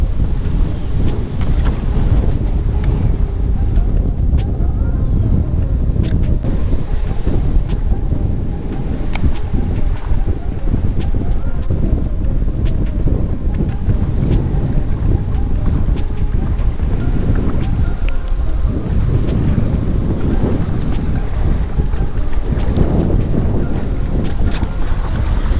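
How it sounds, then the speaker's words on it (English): Strong wind buffets the microphone on a fishing boat on the Mississippi River, a constant loud roaring rumble with gusty surges that continues throughout with no clear talk. "Just a little windy."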